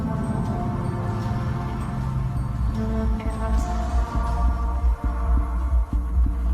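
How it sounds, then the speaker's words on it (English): A low, throbbing heartbeat sound effect from a scary video pulses steadily under a droning hum, rhythmic and fairly loud, with no voices. "A new sound enters into the mix, like a heart pounding."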